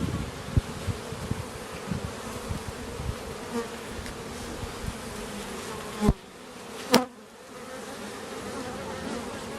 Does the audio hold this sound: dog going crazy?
no